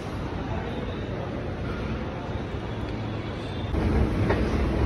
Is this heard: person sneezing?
no